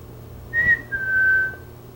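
A person whistles outdoors near a deer, a short clear high note followed by a longer sustained tone, faint against quiet background hum.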